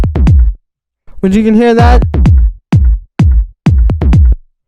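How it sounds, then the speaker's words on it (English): Several booming kick-bass stabs in a short pattern from a Solid Grooves-style house track, loud and close, with a brief stretch of talking in the middle. "And then we have this kick bass"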